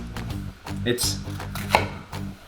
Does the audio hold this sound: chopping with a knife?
yes